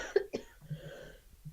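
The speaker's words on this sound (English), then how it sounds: "Hold on, I'm going to cough." Two sharp coughs come close together near the mic, followed by quieter throat noise and a low murmur, all in an indoor talk setting.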